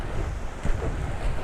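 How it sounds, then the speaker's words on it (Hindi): Mugarpir waterfall in Kanrach, Balochistan, pours water with a steady, dense rushing roar, mixed with gusty wind noise on the microphone and no voices. "लेकिन आबशार बन रही है।"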